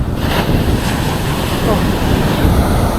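Big ocean waves wash onto the shore in a dense, loud roar mixed with heavy wind buffeting the microphone, steady throughout with no clear break.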